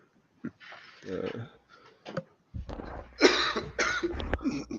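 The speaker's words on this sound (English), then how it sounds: "I can't get rid of this cough" A few short coughs break up quiet stretches, followed by a person talking nearby at moderate volume.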